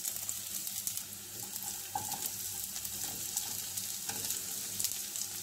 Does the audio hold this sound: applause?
no